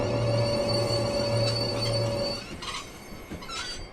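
A Class 360 train running through a station yard in Train Simulator, a steady rumbling drone with a sustained whine that drops away, followed by rattling wheel and coupling clatter.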